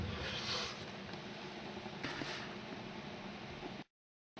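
A steady buzzing vibration from a small magnet motor fitted to a fan runs close and even for a few seconds, then cuts off abruptly into silence.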